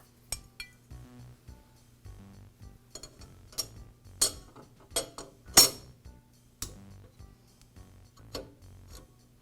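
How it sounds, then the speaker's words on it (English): Metal blade clamping bar being fitted onto a DeWALT planer's cutterhead during a blade clamp repair, a series of light close metallic clicks, taps and clinks at irregular intervals over a low hum. "now I can install the clamping bar"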